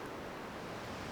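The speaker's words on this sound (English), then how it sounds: "Waterfall." A steady, rushing roar of falling water from a waterfall along a mountain trekking route in Nepal, broad and constant with no breaks, loud and continuous throughout without any voices.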